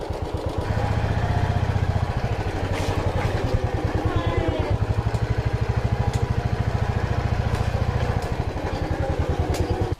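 A Bullet motorcycle engine thumps in a fast, even pulse up close and loud, running steadily for the whole stretch as the bike rolls over a phone in a drop and durability test.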